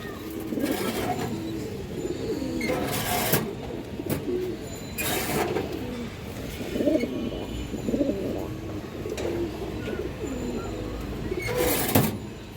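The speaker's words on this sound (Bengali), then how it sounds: "খরা গলা আর একটা নর কবুতর এটা একদম পুরানো ব্লাডের একটা কবুতর" Several pigeons, including an old-bloodline male, coo in repeated low rolling phrases from a loft of pigeons kept for flying, steady and fairly close with a few louder bursts of handling noise.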